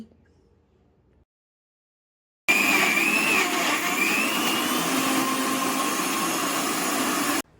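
A mixer grinder whirs loudly and steadily, blending wheat flour, sugar, cardamom, a pinch of salt and milk into a batter; the motor starts abruptly after a silent pause and runs at a constant, unbroken drone.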